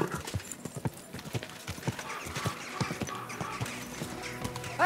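Rhythmic clip-clop of horse hooves close by in the video game Kingdom Come: Deliverance 2, steady and fairly loud, with a brief whinny near the end.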